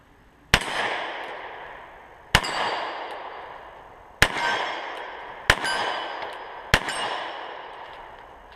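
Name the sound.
Beretta Elite II 9mm pistol shots hitting steel targets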